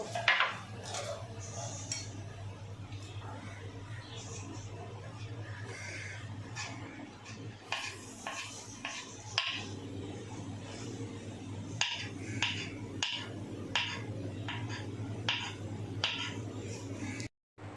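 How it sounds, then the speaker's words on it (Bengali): Chicken sausages are sliced with a knife, giving a run of crisp taps and clicks that come in uneven bursts, close and fairly loud, over a steady low hum from a pan heating on the stove. "এবার আমি সসেজগুলোকে স্লাইস করে কেটে নেব।"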